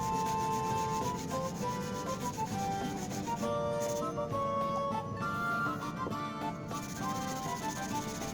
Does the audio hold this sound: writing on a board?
no